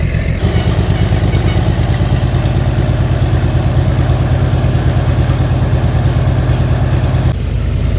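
A heritage train engine idles at Kalakund railway station, a loud continuous low throb with a steady pulsing rhythm, close by. It runs without pause for nearly the whole clip and stops shortly before the end.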